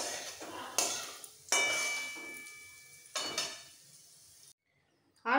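A spatula lifts fried bitter gourd out of a pan with several distinct clanks and scrapes, each followed by a fading oily sizzle, then a brief pause and a final louder clatter.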